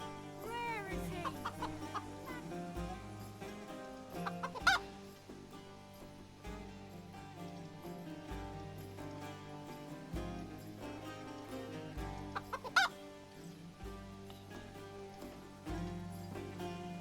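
Chicken in Titan Quest 2, clucking repeatedly over a looping musical backdrop with a soft, steady patter, the clucks coming in short bursts at intervals with a couple of sharper squawks standing out.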